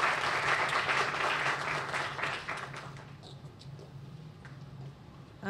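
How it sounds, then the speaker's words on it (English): Applause from a crowd at a biotech groundbreaking, full clapping that thins out midway into scattered, fainter claps before it stops. "So give everyone a round of applause here"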